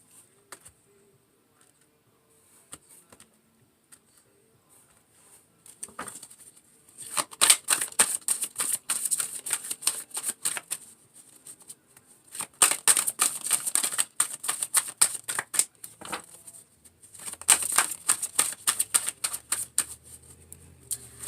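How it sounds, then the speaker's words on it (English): A tarot deck is shuffled and cut, giving bursts of rapid papery card riffles and flicks in three main spells separated by near-silent pauses, close and fairly crisp. "I'm going to cut the deck first."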